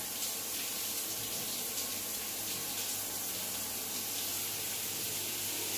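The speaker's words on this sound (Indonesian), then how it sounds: "air wastafel masih tetap menyala air keran masih kencang juga" A bathroom sink faucet, sharing a water heater with a shower, runs hard at strong pressure, giving a loud, steady hiss of splashing water that continues unbroken throughout.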